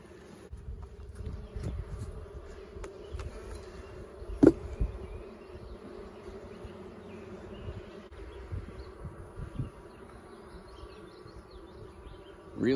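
Honeybees buzz steadily around an open hive during a hive inspection. The hum is continuous and close, with a few louder bumps and knocks against the boxes and no talking.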